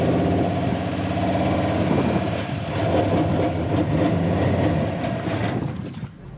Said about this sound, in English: Car seems like it's idling fine